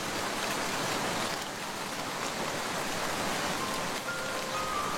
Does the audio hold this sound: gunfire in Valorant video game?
no